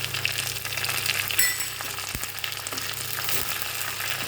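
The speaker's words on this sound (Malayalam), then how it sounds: "ഉള്ളി ആയതിനു ശേഷം കറിവേപ്പില ഇട്ട് കൊടുക്കുന്നുണ്ട്." Curry leaves crackle and sizzle as they fry with onions in hot oil, for a Kannur-style kaya and kanji dish; a steady bright frying hiss carries throughout, with a few sharper spits and pops, close and fairly loud.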